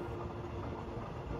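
Steady low rumble of a moving train on the line to Kanchanaburi, Thailand, heard from inside a carriage as a continuous, moderately quiet drone with no talking.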